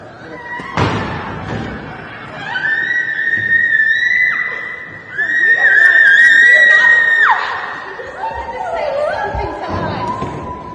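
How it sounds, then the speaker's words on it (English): A woman screams in long, shrill, wavering bursts as she is dragged out of a courtroom, with thuds and scuffling underneath and a brief gap between the cries. "That's her screaming like a little child"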